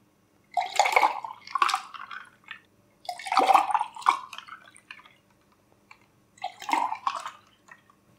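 Sattu drink with lemon being mixed in glasses, three separate bursts of wet liquid sloshing and pouring, each a second or so long, close and clear with quiet gaps between.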